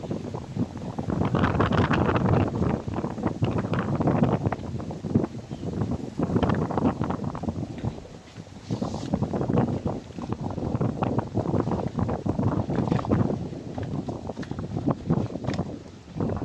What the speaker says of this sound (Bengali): এমন বাতাস আসলো